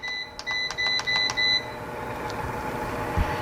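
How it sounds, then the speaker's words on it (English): A food dehydrator's control panel gives a quick series of sharp electronic beeps as its timer is set, about six close short tones followed by one fainter beep over quiet room hiss. "So I'm going to do the timer, and I'm going to set the timer for"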